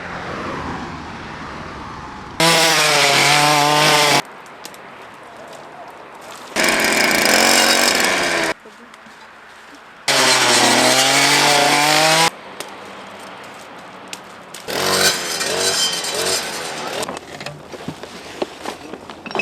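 A chainsaw cutting roadside bushes during a community cleanup in Kitsman district, Ukraine, revs loudly and close in repeated bursts of about two seconds, with quieter outdoor gaps between them.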